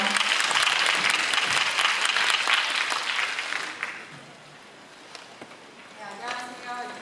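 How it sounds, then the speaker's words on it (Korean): A large audience at a Korean National Park Service careers event bursts into loud, sustained applause for about four seconds, then the clapping fades to a quieter murmur with a few scattered claps. "큰 박수 부탁드립니다"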